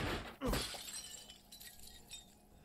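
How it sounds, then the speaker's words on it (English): A knife smashes a breakable object in the video game Resident Evil Village, giving one sharp crash with a glassy shatter, followed by a short scatter of tinkling debris that quickly fades. "Smash away with your trusty knife."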